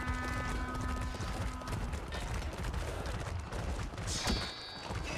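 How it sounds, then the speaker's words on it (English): Horse hooves clip-clop steadily in a Chivalry 2 medieval battle, with a short whinny and mechanical clatter over dense combat din, staying fairly loud throughout. "Oh, the horse, free horse, my man."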